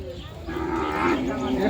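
Cattle in a pen give a single drawn-out moo close by, rising slightly and steady, with faint background farmyard noise.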